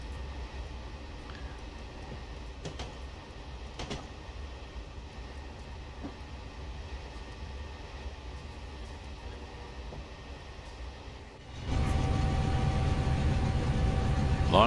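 A long BNSF freight train in a Train Simulator 2020 run down Cajon Pass toward San Bernardino rolls steadily with a constant low rumble and faint clanks, then swells abruptly louder and nearer for the last few seconds.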